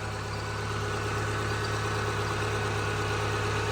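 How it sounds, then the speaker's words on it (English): A stock 2003 Subaru 'Bug Eye' idles with a faint pulley noise at the front, producing a continuous, even engine drone close to the microphone, with no talking. "Maybe a little bit of pulley noise in the front"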